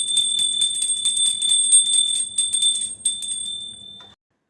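A hand bell rung during a Hanuman puja, rapid continuous metallic ringing with bright sustained tones, close and loud, stopping abruptly near the end, with no talk.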